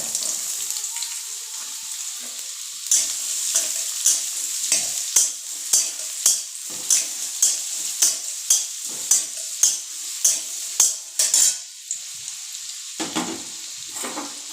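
Carrot and other vegetables fry in a pan with whole garam masala spices for fried rice, a steady sizzle under a run of regular spatula scrapes about twice a second, close and fairly loud, with no talking.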